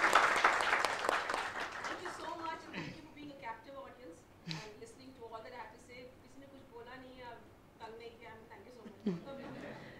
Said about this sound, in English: please uh, lend a round of applause for her